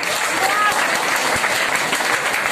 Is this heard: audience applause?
yes